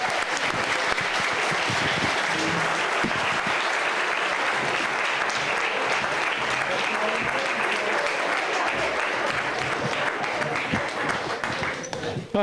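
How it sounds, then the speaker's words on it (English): Sustained applause from a sizable crowd, steady and dense throughout, with a few voices and cheers mixed into the clapping. "Let's give a warm round of applause to our candidates."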